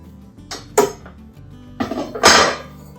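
Cornbread being turned out of a pan in a home kitchen, a few soft knocks and bumps of metal, then a louder scraping clatter near the end, with no talk.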